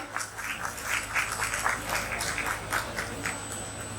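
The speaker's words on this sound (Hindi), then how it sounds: "एक बार जोरदार ताली हो जाए एवरीवन, कम ऑन।" A crowd claps steadily in sustained applause at a school Teachers' Day celebration, dense and even throughout, with a faint high tone running underneath.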